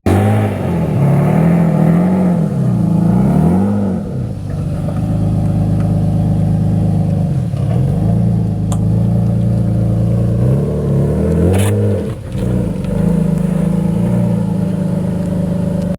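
A widebody Lexus IS300 with a tuned ECU drives and revs close up, its loud engine note climbing and dropping through repeated gear changes with brief dips between shifts.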